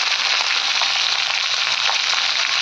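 Long beans and potato frying in hot oil with cumin seeds and dried red chillies, a steady loud broadband sizzle that holds without a break, close and alone with no voices.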